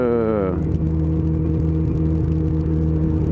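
A motorbike engine drones steadily on the road, close and constant, with a brief rising whine at the start before settling into an even hum.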